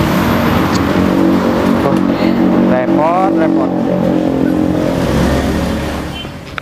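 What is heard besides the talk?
motorcycle engine riding off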